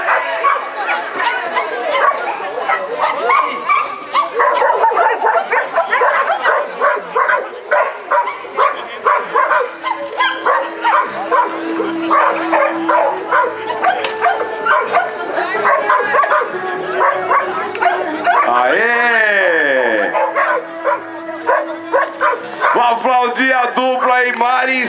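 A dog yips and barks repeatedly amid busy talking and crowd noise, with a few whimpering, rising squeals near the end.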